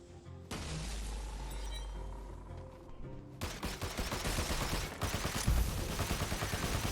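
Weapons firing in the video game Tiny Tina's Wonderlands: a sustained roar of gunfire, then from about halfway a louder stretch of dense, rapid, overlapping shots and bursts that keeps going to the end.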